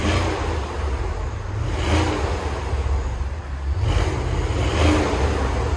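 Nearby 2010 Porsche Panamera Turbo, its 4.8L V8 breathing through a dual exhaust with the resonator deleted, gets two loud throttle blips separated by a settling rumble, each rev climbing sharply before falling back.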